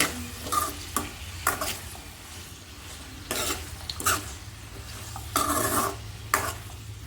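A spatula stirs chopped broad beans with turmeric and curry leaves in a pan, with scraping strokes in uneven bursts over a soft, steady sizzle and no voices.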